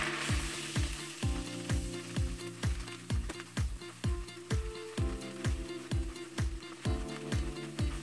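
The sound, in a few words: stirring flour into melted butter in a pot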